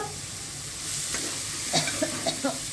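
Thinly sliced onions fry in a pan with a steady close sizzle, and a few soft scraping stirs break through near the end.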